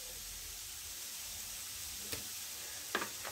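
Olive oil sizzles softly in a pan with chicken for a quick rice and vegetable dish, a steady faint hiss with a couple of brief clinks near the end and no talk.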